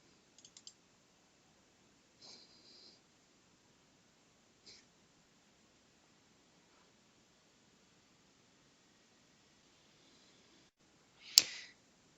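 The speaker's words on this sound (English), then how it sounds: "double click on the IOC file to open it in" A computer mouse clicks in short, faint taps spread across a quiet room, with a louder burst of clicking noise near the end.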